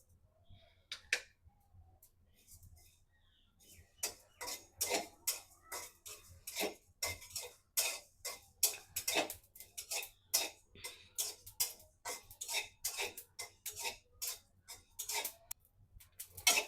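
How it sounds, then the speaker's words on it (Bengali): Cumin seeds roasting in a dry pan for pineapple chutney, heard as a steady run of sharp, quiet ticks and pops, irregular at first and then denser, with no talking. "তার জন্য জিরাটা আমি একটু ভেজে নিচ্ছি আগে"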